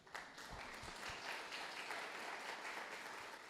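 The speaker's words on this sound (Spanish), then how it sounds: "denme un aplauso a Cristian para que salga animado" A church congregation at a worship service applauds steadily for several seconds. The clapping is dense, even and fairly distant, with faint murmuring beneath it.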